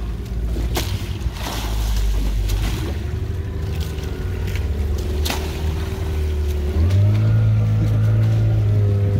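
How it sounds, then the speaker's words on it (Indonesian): Open sea off Bali heard from a moving boat, a loud steady wash of waves and rushing water with wind buffeting and a droning engine rising near the end. "Wow, ombaknya."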